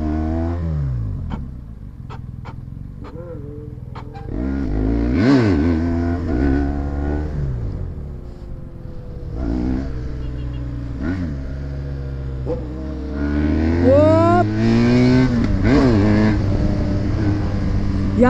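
A BMW engine revs and accelerates up close, rising and falling in pitch through several throttle blips, with brief barking-like sounds and occasional voices mixed in.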